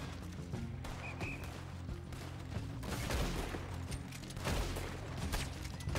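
Gunfire in the video game Red Dead Redemption 2 during a bank raid by cops, repeated shots and bursts over a dense rumbling background, fairly continuous with louder cracks spaced through.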